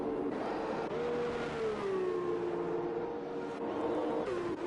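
An F2 race car in F1 2021 at Bahrain, engine droning and shifting pitch as it runs through the final corners, steady and fairly close with no talk over it.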